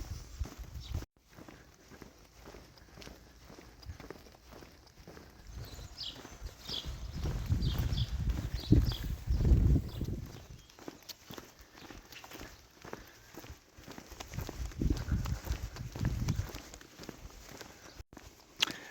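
Donkeys walk along a road toward Fisterra on a Saturday, their hooves clip-clopping in a steady, uneven patter that swells louder midway and then eases, with no talking over it.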